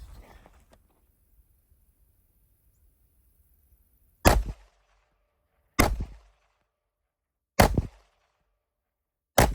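Four loud, sharp Glock G45 pistol shots fired alone at spaced intervals, each with a short decaying tail, after a few seconds of quiet.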